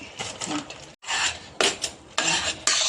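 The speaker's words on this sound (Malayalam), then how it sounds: "ഇതിലിട്ട് തന്നെ ഇങ്ങനെ ഇളക്കി ശരിയാക്കി എടുക്കണം" A spoon scrapes and clatters against a pan while stirring a wheat flour mixture for ilayada, in several close, loud bursts with brief pauses between them.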